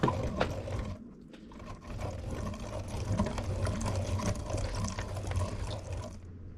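A meat grinder works rabbit meat and fat through its auger, a steady low whirring drone with soft squishing and faint rattles, moderately quiet and continuous, fading out at the end.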